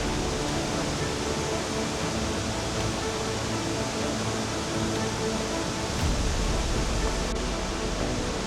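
Steady, loud broadband roar of the Guanyin Waterfall in Zhuqi, swollen by rain, rushing continuously and close by with no pauses.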